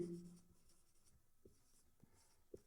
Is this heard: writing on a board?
yes